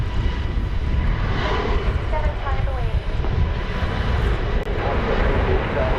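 A Qantas Boeing 787-9 Dreamliner jet arriving on approach to DFW Airport, a steady, broad engine roar with a slowly shifting whine, loud and continuous with some wind noise.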